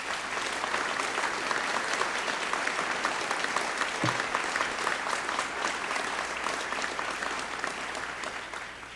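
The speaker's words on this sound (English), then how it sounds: "Please join me all in one more round of applause for all four recipients of honorary" A ceremony audience applauds honorary degree recipients at a 1993 building dedication, sustained and fairly distant clapping from a crowd continuing evenly for the full stretch without speech.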